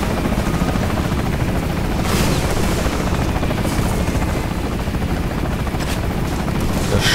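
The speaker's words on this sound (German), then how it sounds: "Der Scheiß Heli geht mir sehr auf den Sack." In the shooter game Bulletstorm, a helicopter drones loudly and continuously overhead with a dense, steady rotor roar, mixed with bursts of gunfire and a few booming impacts.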